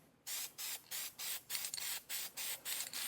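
An aerosol can sprays HyperDip tack coat onto car wheels in a steady series of short, even hissing bursts with brief gaps between them, close and alone.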